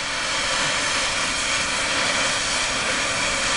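A steady, loud roaring hiss of a torch flame heating a metal bar burns continuously, broadband and unchanging, with no other sounds.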